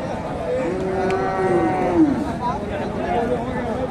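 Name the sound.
Friesian calf at cattle market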